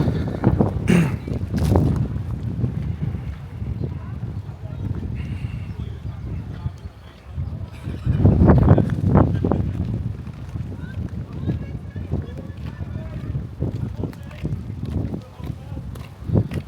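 Wind buffets and rumbles across the microphone in gusts while a person talks over it outdoors at Butlins holiday resort, Bognor Regis.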